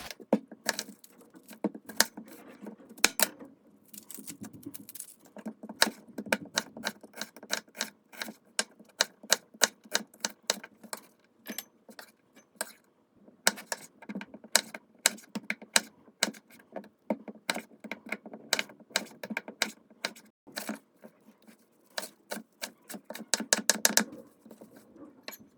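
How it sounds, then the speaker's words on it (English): A knife dices yellow onion, limes and cilantro for venison birria tacos, giving dense runs of sharp, close chopping taps on a cutting board, broken by short pauses and bursts of quicker strokes. "we're going to cut up this yellow onion, dice these limes, and then we're also going to cut up the cilantro"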